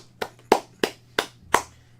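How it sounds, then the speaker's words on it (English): Five sharp hand claps ring out close and loud at a slow, steady rhythm over about two seconds, with a faint hum underneath. "I'm doing the Jeff Hardy clap."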